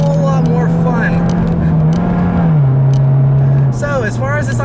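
Supercharged Scion FR-S engine under acceleration, a steady droning note with a gradual pitch shift, loud and close throughout with someone talking over it.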